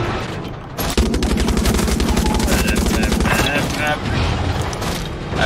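Rapid automatic gunfire in Far Cry 6, a dense sustained burst of loud repeated shots starting abruptly and rattling on for several seconds, with a voice speaking over part of it.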